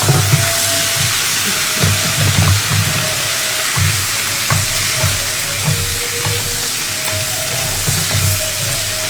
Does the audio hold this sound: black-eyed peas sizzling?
yes